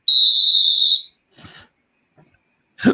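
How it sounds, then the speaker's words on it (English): At an NFL game, a single sharp, high-pitched referee's whistle blast lasting about a second, followed by brief faint rustles and a short burst of noise at the end. "Whistle."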